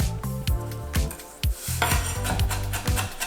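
A knife minces firm cornichons on a cutting board while prepping a barbecue sauce, making quick, close, evenly spaced chops with soft wooden knocks between them.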